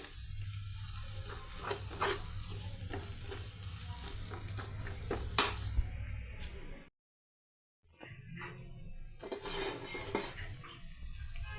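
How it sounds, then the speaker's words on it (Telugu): Onion pieces frying with red chilli powder in a pan, a steady low sizzle broken by repeated scrapes and clinks of a metal spoon against the pan, one sharp clatter, then a brief silence before the stirring and frying resume. "ఇక రెడ్ చిల్లీ పౌడర్తో ఈ ఆనియన్ పీసెస్ 1 నిమిషం ఇలా ఫ్రై అవనిద్దామండి."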